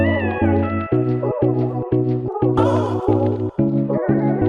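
Vocal chops processed with reverb and delay in Logic Pro form a looping sung melodic phrase over a pulsing, rhythmic low beat, loud and upfront, with a brighter washy section midway.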